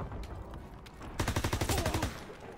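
Rapid gunfire in Call of Duty WW2, a dense burst of repeated shots starting about midway and running for roughly a second, following quieter game ambience.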